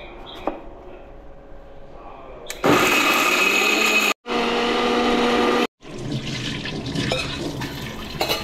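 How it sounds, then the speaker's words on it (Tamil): A mixer grinder grinds coconut chutney in its jar with a loud, close whirring roar that runs in bursts with two short stops, after some quieter handling noises at the start. "இப்போ அரைக்க போகிறோம்."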